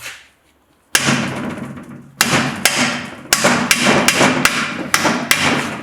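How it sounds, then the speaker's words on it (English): A hammer strikes a screwdriver to knock out a disc during camshaft removal on a vintage Ferguson FE35 tractor engine, giving about ten sharp, loud metallic blows at an uneven pace after a moment of quiet. "Just be careful when you knock a screwdriver in or whatever you've got"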